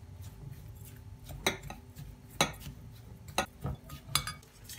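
Crushed biscuits stirred with butter in a bowl, with a spoon giving several soft clinks and scrapes against the side in a quiet room.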